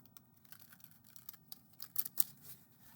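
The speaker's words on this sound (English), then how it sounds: "let's check its side-to-side shuffle." Soft, rapid papery flicks and riffles of a tarot deck being shuffled side to side, a quick irregular patter with a few sharper snaps near the end.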